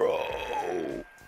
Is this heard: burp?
yes